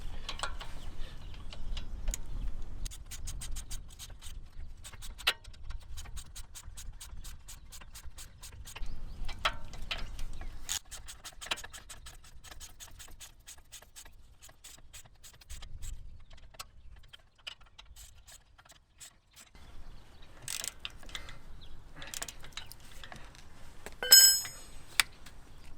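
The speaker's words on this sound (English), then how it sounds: "13mm socket and 17mm wrench." Sparse metallic ticks and clinks of a 13mm socket and 17mm wrench working on the rear brake bolts of a Range Rover L405, quiet and close with irregular spacing and a few sharper ratchet clicks near the end.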